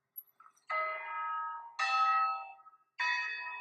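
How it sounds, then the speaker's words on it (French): Carillon bells in Beaune, the Burgundy wine capital, ringing three clear, resonant strikes, each sustaining and fading before the next, heard alone. "Au loin, le carillon beaunois nous appelle."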